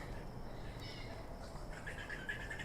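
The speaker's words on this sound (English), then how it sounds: "the birds are going crazy" Small birds chirp outdoors, faint and scattered high tweets over steady background hiss, with a brighter cluster of calls near the end.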